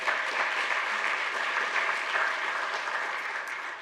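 An audience applauds scientists at a talk on the periodic table, a dense, steady wash of clapping that holds at an even level throughout before easing slightly at the end.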